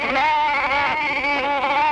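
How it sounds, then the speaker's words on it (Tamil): Goats bleating loudly and close by in a grazing herd, a continuous wavering, nasal cry lasting the whole moment with no pause. "மேய்ஞ்சுக்கிட்டு இருக்கிற ஆட்டு கூட்டத்துல வேற எந்த ஆடு மேலையும் படாம அந்த வெள்ளாட்டை மட்டும்"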